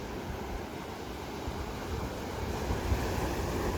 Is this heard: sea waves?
yes